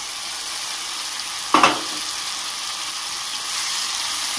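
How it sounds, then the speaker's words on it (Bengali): Coconut paste frying with rice in a pan for a chalta chutney, a continuous sizzle with one brief louder stirring clatter partway through, no talking. "নারকেলগুলিকেও আবার ভালো করে ভেজে নেব"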